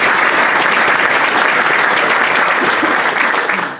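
Loud, dense applause from a seated audience at a Rotary club meeting, steady and sustained for several seconds before tapering slightly at the end.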